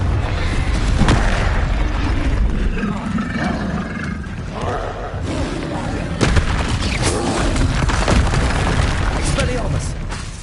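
Booming Confringo blasting-spell explosions in Hogwarts Legacy roll through a loud, dense combat din, heavy rumbling blasts with sharp cracks near the middle, continuous and close throughout.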